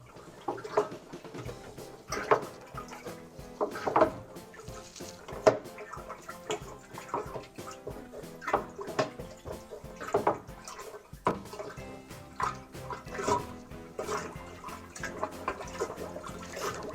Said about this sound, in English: Go ahead and give us a stir.